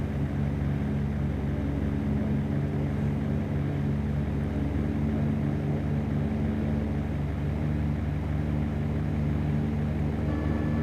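A propeller airplane in the X-Plane flight simulator during night pattern work, giving a steady droning engine hum with a faint whine, constant and even throughout, with no talking.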